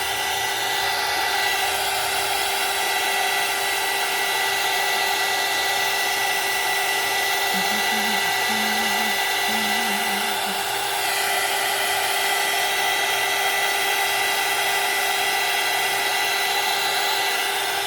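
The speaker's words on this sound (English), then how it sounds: "I'm going to use my heat tool and dry this" A craft heat tool blows hot air over wet craft paint in a steady, loud, unbroken whir lasting the whole stretch, with a faint fluttering tone briefly in the middle and no voices.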